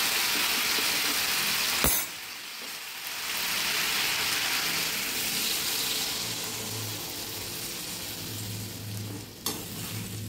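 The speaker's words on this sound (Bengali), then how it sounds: "এবারে আমি একটু জল দিয়ে দেবো।" Vegetable curry sizzling and frying in a pan, a steady hiss with a couple of sharp clanks, as water goes in and the bubbling settles into a softer simmer.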